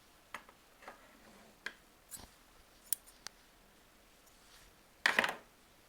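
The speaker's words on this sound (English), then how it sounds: "Time to do the snippy snip again." Scissors cut fabric squares for quilting during a serging session. Several sharp, isolated snips are spaced out in a quiet room, with a louder, longer cut near the end.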